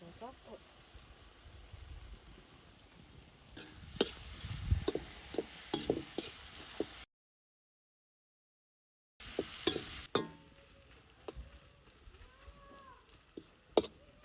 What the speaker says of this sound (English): it's time to add the fried bitter gourd along with the tomato sauce and soy sauce. Mix until all the ingredients are coated.